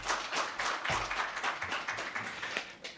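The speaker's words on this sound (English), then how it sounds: "Zida, let's give them a big round of applause, ladies and gentlemen." Audience applause at a stock exchange listing ceremony at Victoria Falls, a dense, steady patter of many hands clapping at once, fairly close and sustained throughout.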